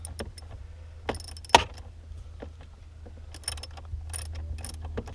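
A ratchet with a swivel extension working tight bolts loose under a Ford Mustang S197 dashboard, giving sparse close mechanical clicks and clunks, one sharp loud snap, and a faint low hum underneath, with no talking.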